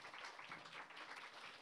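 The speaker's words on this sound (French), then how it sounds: "On peut l'applaudir encore une fois." Audience applause welcoming a guest on a French-language talk show, a steady dense patter of many hands at a modest level with no talk over it.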